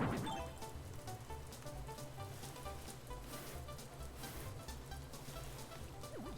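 Rain falls in the Animal Crossing video game, a steady soft patter spread evenly through the whole stretch, with game music faintly underneath.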